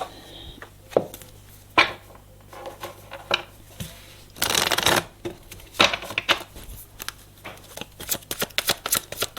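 Tarot cards are shuffled up close in repeated riffles and bursts, with a long rattling shuffle in the middle and lighter card taps and slides after, while a faint voice speaks.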